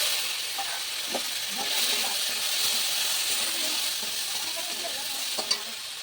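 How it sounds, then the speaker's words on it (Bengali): Potatoes fry in a kadai with a steady moderate sizzle and hiss, faint scrapes and a brief clink near the end, no voices. "এবার আমি কড়াইতে আলুগুলো দিয়ে নেবো আলুগুলো ভেজে নেবো"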